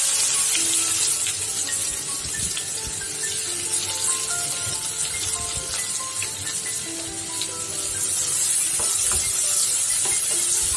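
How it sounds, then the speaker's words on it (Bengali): Onions frying in hot oil with cumin seeds for a tangra fish bhuna, a steady close sizzling hiss that fills the whole stretch without a break, with no talking over it. "এখন আমি পেঁয়াজ দিয়ে দিচ্ছি 1 কাপ পরিমাণ।"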